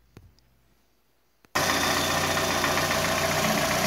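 A 2009 Pontiac Vibe engine, just fitted with a new oil control valve and showing a slight lifter kick, catches after a brief click and then runs loudly and steadily up close.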